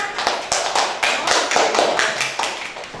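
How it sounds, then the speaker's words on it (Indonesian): A small class of students claps for a classmate, with brisk, close, irregular hand claps filling about three seconds at an even loudness. "Tepuk tangan untuk Nanda Dea."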